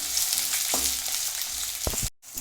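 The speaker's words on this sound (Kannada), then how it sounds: "ಈರುಳ್ಳಿ ಇಷ್ಟು ಫ್ರೈ ಆದರೆ ಸಾಕು" Onions and green chillies frying in a pan for restaurant-style veg Manchurian, a steady close sizzle with a few scraping stir clunks near the end and a brief dropout.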